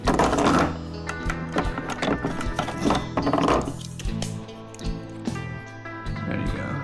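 A Koken low-profile ratchet works on a Yamaha Kodiak 450 ATV during a carburetor job, giving close, uneven clicking and metallic rattles in short bursts with some handling noise.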